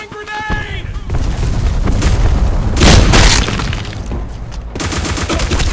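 Grenade explosions in the Black Squad first-person shooter: heavy, booming blasts roll through most of the stretch, with a short burst of a voice at the start and another loud detonation near the end.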